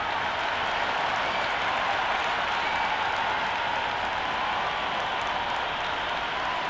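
Cricket crowd in the video game Cricket 26 cheering at a Pakistan versus India match, a continuous, even roar of applause and noise that holds steady throughout.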